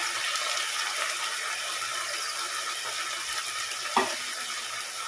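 Okra curry simmering in a pan with coconut milk being stirred in, a steady broadband bubbling sizzle with a single soft clink of the spoon near the end, no voices.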